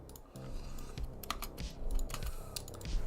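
Computer keyboard typing during game development work, rapid irregular key clicks over a steady low background hum, close and fairly loud.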